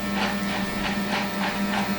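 Electric hair clipper buzzing continuously close by during a crewcut fade haircut, a steady hum with a faint rhythmic pulsing.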